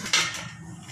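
A lid is set onto a cooking pot of moringa leaf sambar, a single sharp metallic clank followed by a softer knock and brief ringing fade.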